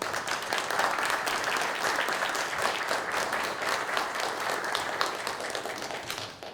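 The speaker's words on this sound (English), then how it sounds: "I think that deserves a round of applause." Steady, dense applause fills a Birmingham city council chamber during a 2015 meeting. The clapping holds at an even volume from a sizable audience and tapers slightly at the very end.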